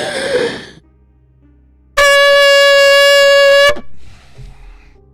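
A single long, loud air horn blast lasts nearly two seconds, with a breathy sigh-like sound before it and a short fading tail after.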